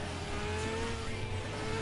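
A GT by Citroen race car roars in Gran Turismo 5 racing, a continuous loud engine drone with steady tire and road noise and no voice over it.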